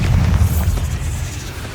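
Bombarda spell explosion in Hogwarts Legacy: a loud, deep blast with a rolling low rumble that decays over about two seconds.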